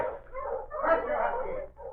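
A puppy in a radio drama whimpers and yips, giving soft, wavering high cries and short yelps in an unbroken stretch, moderately quiet and close.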